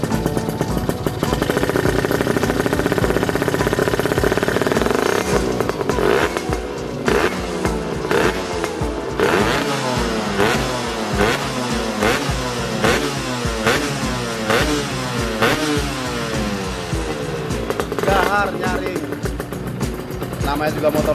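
An Aprilia RS 125 two-stroke motorcycle engine revs hard and repeatedly, the pitch climbing and dropping in quick bursts, loud and close, with voices speaking over parts of it.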